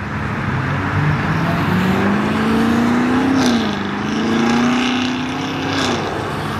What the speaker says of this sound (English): I was talking about a TT Huracan pulling up